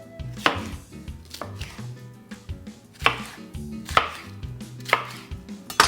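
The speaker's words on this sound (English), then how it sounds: "We're going to cut it in half and remove the stem, and we're going to cut this into strips" A knife chops a bell pepper into strips on a cutting board, giving a run of sharp, close, irregular thuds with brief pauses between cuts and no talking.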